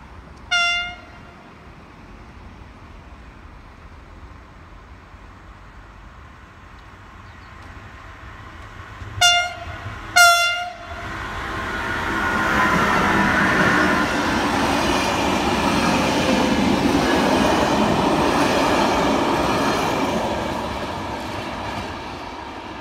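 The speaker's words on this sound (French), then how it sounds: "Merci au conducteur pour son sifflet à plusieurs reprises." Train on French rail line H sounding its horn in three blasts, one short then two close together, before the train rushes past loudly with a long rolling roar that fades at the end.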